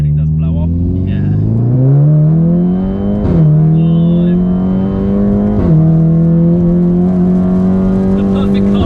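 A turbocharged Stage 2+ Volkswagen Golf R engine revs up through rising pitch, with gear shifts and a brief sharp blow-off valve release between them, loud and close, in the rain.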